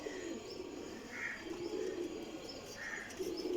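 Sialkoti pigeons coo softly in a loft or breeding setup, giving repeated low, throaty coos in a slow rhythm with a few higher chirps mixed in, at moderate distance over steady background noise.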